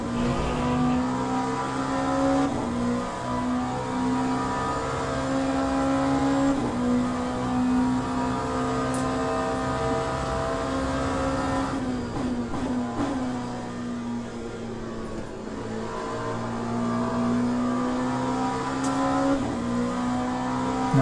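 A race car in the Le Mans Ultimate racing game, its engine droning steadily and close, pitch rising and dropping with repeated gear shifts while it accelerates out of a corner, with no talk.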